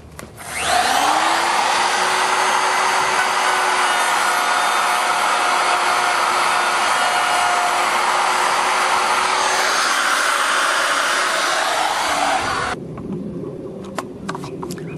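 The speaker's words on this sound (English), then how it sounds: "I'm going to go ahead and finish cutting this off." A power saw trims the edge of an interior door being resized to fit an existing jamb, a loud steady whine that runs continuously for about twelve seconds before cutting out, leaving quieter room noise.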